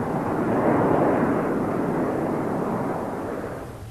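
Hawker Hunter jet aircraft in flight, a loud, broad roaring rush that holds steady and then slowly fades over a few seconds, with no voices.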